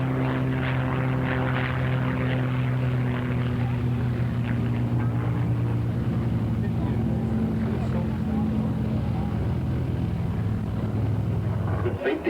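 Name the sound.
aircraft rolling wings level at top of loop, air show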